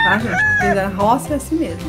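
Chickens cluck and crow on a rural farm in Brazil, loud and close, in a series of squawking calls heard beneath and between a person's speech.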